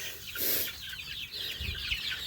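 Young chickens on a farm give soft, overlapping clucks and chirps throughout, close by and continuous, with no talking.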